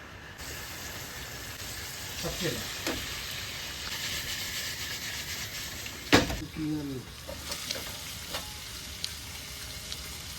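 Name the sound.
fish frying and being stirred in a non-stick pan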